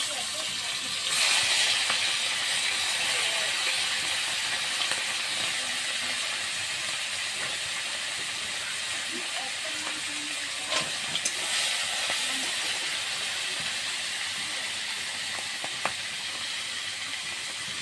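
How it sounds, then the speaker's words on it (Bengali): Dried fish fries in mustard oil, a steady broadband sizzle and hiss held at even loudness for the whole stretch, with a few faint clicks and pops scattered through it. "সরষের তেল দিয়ে শুটকিটা ভেজে নিচ্ছি।"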